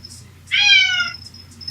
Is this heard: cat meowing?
yes